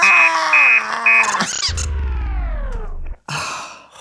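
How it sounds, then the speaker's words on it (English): Beeping electronic alarm tones in a repeating pattern, followed by a loud descending synthetic buzzing sweep, a brief cutoff, then more harsh electronic noise. "Would you like to hear my alarm? Yes, and make it loud."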